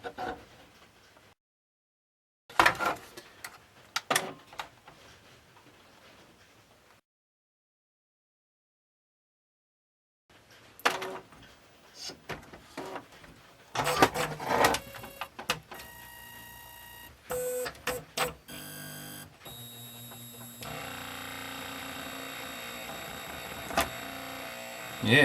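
An Epson ET-2710 inkjet printer with its mechanism driving backwards gives off bursts of whirring motor noise, ticks and clunks, separated by silent pauses early on and then a busier, continuous run of mechanical clatter and whine near the microphone.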